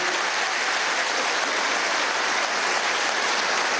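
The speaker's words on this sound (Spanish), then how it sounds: "un aplauso a Ender, ¿vale?" Sustained audience applause at a graduation ceremony for the first cohort of the Simón Rodríguez micromission, a steady, loud wash of many hands clapping together without a break and without speech.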